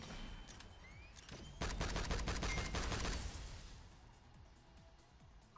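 Refractor gun firing in the SYNTHETIK shooter game, a dense rapid burst of sharp crackling shots lasting over a second, loud and close, followed by a fading tail and quieter ambience.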